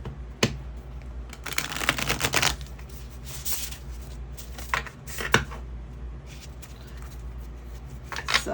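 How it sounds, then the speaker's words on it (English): A tarot deck being shuffled by hand, giving soft papery riffles and card flutters in a few bursts with quieter handling between, close and alone without talk. "Give it a little shuffle."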